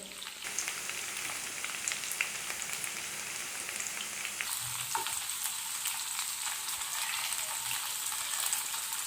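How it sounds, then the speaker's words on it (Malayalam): Cauliflower florets frying in hot coconut oil for a crispy cauliflower fry, a steady close sizzle and crackle that runs throughout with no talking. "എല്ലാം ഇങ്ങനെ വെളിച്ചെണ്ണയായിട്ട് ടച്ച് ചെയ്തിട്ട് നിൽക്കണം, എങ്കിൽ മാത്രമേ നല്ല പോലെ പൊരിഞ്ഞു വരുള്ളൂ."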